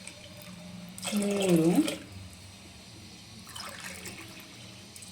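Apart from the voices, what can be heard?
water being poured from a glass into a pot for kodo millet pongal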